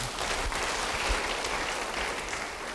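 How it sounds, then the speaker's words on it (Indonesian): Congregation applauding in a church, a dense, steady burst of clapping from many hands, loud and continuous with a few low thumps near the start. "Yang percaya, beri tepuk tangan bagi dia."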